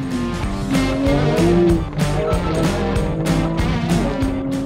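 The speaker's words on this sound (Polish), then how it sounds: "jest strasznie głośny ten samochód" A loud car drives on a slippery track, its engine a steady harmonic drone with shifting pitch and repeated revving surges throughout, close and continuous with no talk over it.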